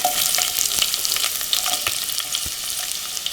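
Medium-cut onions with a bay leaf fry in a hot pan for chicken biryani, giving a steady, close sizzle with crackles and occasional stirring scrapes throughout.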